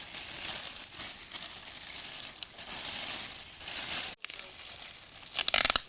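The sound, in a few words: seedlings being put into a plastic bag, plastic crinkling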